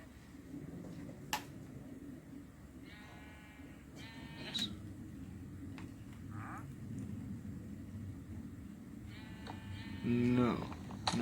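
Sheep in a video game farm pen bleat now and then, thin, wavering cries over a quiet background, with a louder bleat near the end.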